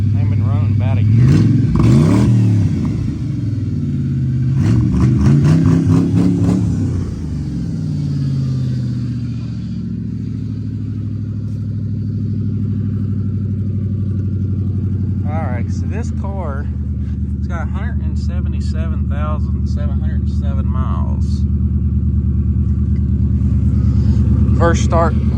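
A 2003 Ford Crown Victoria that sat about a year cranks and fires up, then settles into a steady low idle rumble with a few revs, while someone talks over it.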